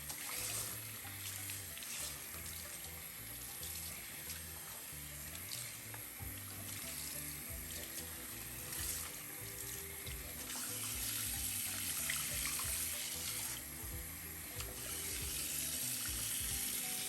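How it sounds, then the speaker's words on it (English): Cool lukewarm tap water runs steadily as a human hair wig is rinsed under the faucet, a continuous close splashing hiss with small shifts as the hair moves through the stream. "Now I'm going to rinse that product out again with cool lukewarm water"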